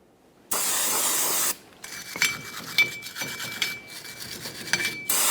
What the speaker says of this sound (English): You can use a wire brush and some parts cleaner for this.